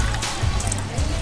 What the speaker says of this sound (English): It's a lot of water.